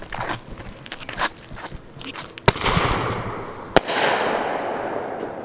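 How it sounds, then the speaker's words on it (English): Fireworks going off mid-build at an outdoor show: a run of crackling pops and bangs, then two sharp loud reports each followed by a long fizzing, crackling tail close by. "we're doing like a mid-build fireworks show."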